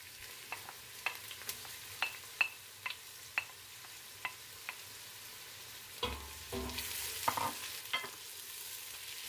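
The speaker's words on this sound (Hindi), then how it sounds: "और अब इन्हें गोल्डन होने तक फ्राई करेंगे" Roughly chopped garlic and ginger frying with onions in a pan, a steady sizzle broken by regular soft stirring scrapes, with a louder burst of frying near the end; no talking.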